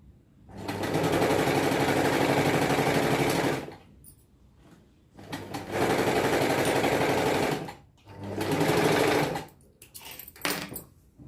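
An electric sewing machine stitches a blouse front in three long, loud, rapid whirring runs, with short pauses and small clicks and fabric handling between bursts, heard up close.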